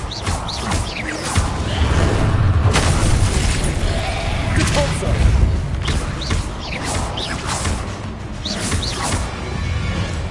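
Bombarda exploding spells cast in a Harry Potter video game, repeated booming blasts with crashing debris and whooshes, loud and dense over several seconds, with a voice calling out over the effects.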